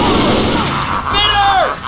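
Gunfire aimed at the Tank in Left 4 Dead 2, sustained rapid shots forming a dense loud burst under a mix of game sounds, with a brief descending whine near the end.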